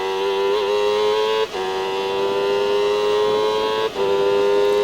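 A Sports 1000 race car at Silverstone, heard from the cockpit, holds a loud, steady high-pitched engine whine with strong harmonics, interrupted twice by brief dips as the driver shifts gear, then rising straight back to full revs.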